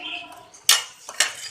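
A spoon mixes salt, turmeric and Kashmiri chili into the pakora kadhi base in a pot, giving two sharp metallic clinks and scrapes against a quiet background.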